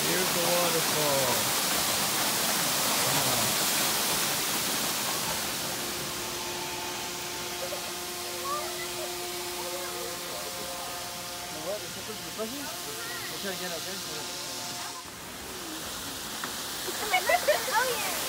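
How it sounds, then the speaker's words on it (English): Steady rushing water from a waterfall at Rock City in North Georgia forms a broad, constant roar. Faint voices and other background sounds sit beneath it. "There's the beautiful falls."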